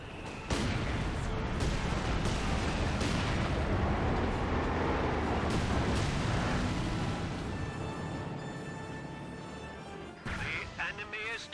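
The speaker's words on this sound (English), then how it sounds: "We have incendiary mortar barrage from the Brits." Incendiary mortar barrage falling in a Company of Heroes 2 battle, a dense sustained roar of blasts and crackling fire across the field, fading near the end into scattered sharp impacts, with voices talking over it.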